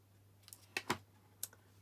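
A few sharp clicks and snips as a small piece of card is trimmed off for a Stampin' Up! colourful banner card, quiet close-up cuts spaced unevenly with a faint steady hum beneath.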